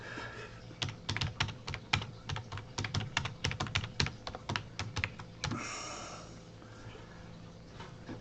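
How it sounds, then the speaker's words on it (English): Computer keyboard keys clicked in a rapid, irregular run of close, crisp taps for about five seconds, then quiet room tone. "I'm starting to type instead of talk."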